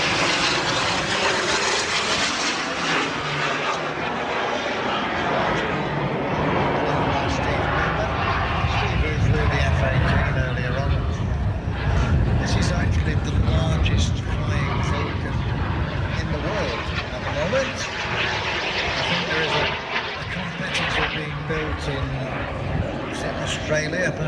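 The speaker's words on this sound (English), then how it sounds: "Not one, but two Vulcans." Two Avro Vulcan jets fly past at an airshow, a loud, sustained jet roar with a deep rumbling low end that swells midway and holds for the whole stretch, with a voice talking over it throughout.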